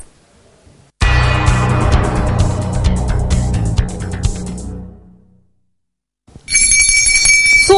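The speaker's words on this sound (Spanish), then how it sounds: "Suena, suena la campana." A loud bell rings steadily for several seconds and fades out, then a brighter ringing starts up again after a short pause.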